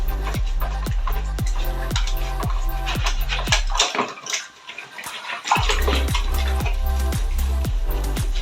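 Running water splashes steadily inside a fridge compartment as it is washed out, loud and close with a brief drop in flow midway, with occasional clinks against the plastic.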